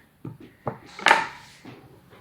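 A knife cuts vegetables on a board in a few sharp, separate knocks and one longer scraping slice, close and clear in a quiet kitchen.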